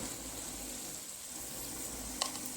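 Spice paste with green peas frying and being stirred in a pan for a river fish curry, giving a steady, quiet sizzle with a soft scrape near the end.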